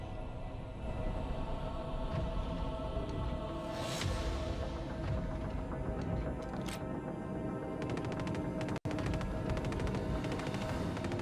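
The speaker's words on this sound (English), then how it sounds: "Let's go back and just return some gunfire and have some fun with them." Gunfire in the space combat game Star Citizen: dense, continuous automatic fire at close range, with sharper bursts near the four-second and seven-second marks and one abrupt drop partway through, with no voices.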